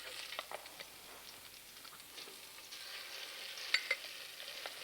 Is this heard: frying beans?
yes